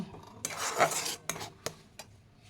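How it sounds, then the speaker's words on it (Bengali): A spoon scrapes and clinks against a pan while poppy seed paste is stirred, with a busy burst of scraping followed by a few sharp separate taps, close and clear with no talking. "পোস্তটা আগে নেড়ে নিই"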